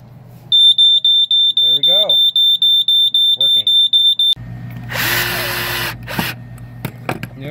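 Smoke detector set off by gas from a standard lighter near its sensor, a loud piercing beep repeating in a steady rhythm, then people talk amid clattering handling noise.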